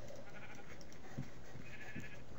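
A black sheep in Minecraft gives a few short, nasal bleats, close and clear over a steady game background with no talking.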